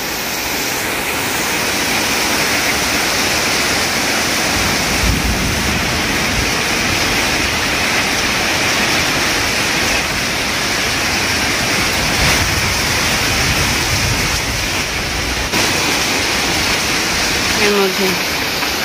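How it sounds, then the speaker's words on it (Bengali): Heavy rain pours down steadily outside a balcony during a thunderstorm, a dense continuous rushing wash that stays loud and even throughout, with no clear voices. "সাংঘাতিক বৃষ্টি আসলো।"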